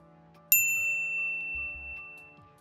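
A single bright notification bell ding rings out cleanly and alone, then its tone decays slowly over the next two seconds.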